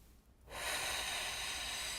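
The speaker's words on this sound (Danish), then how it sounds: "Tag en ny indånding. Og pust igen." A single long, breathy exhale during a breathing exercise follows a short quiet moment and carries steadily and close until the end.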